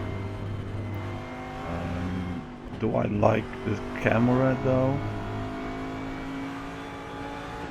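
A steady American muscle car engine drone in the RaceRoom racing game, with low harmonic bands throughout, while someone talks briefly over it in the middle.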